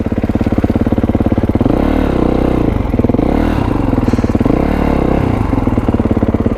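Kawasaki KLX351 dirt bike engine revving hard during a burnout, a loud, close, continuous throbbing drone that repeatedly climbs and falls in pitch as the throttle is worked, with no voices.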